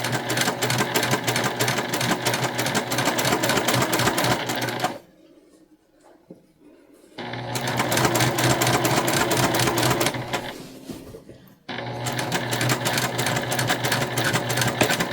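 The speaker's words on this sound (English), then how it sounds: "we're just gonna stitch straight across" A sewing machine runs steadily, stitching straight across a beginner-friendly cotton trick-or-treat tote bag. A five-second burst stops for a brief quiet gap, then a second run starts, pauses briefly again and resumes, close and loud.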